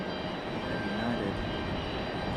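An airplane on final approach at Raleigh Durham airport, a continuous broad engine roar with a faint whine, steady and fairly distant, with no talk over it.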